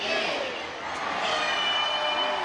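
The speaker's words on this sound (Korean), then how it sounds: "함성과 함께 2016년을 알리는 종소리가 들립니다." A crowd cheers and roars outdoors at a New Year's bell-ringing ceremony in Changwon, a loud sustained wall of voices with tonal ringing mixed in, steady throughout.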